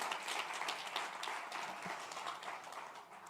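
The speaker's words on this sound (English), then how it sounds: "Give it a huge round of applause for the moderator" Audience applause for a panel moderator at a G20 digital economy meeting in Hyderabad, a soft, continuous patter of many hands heard at a distance, fairly faint throughout.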